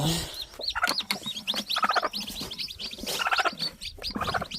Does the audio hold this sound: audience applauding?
no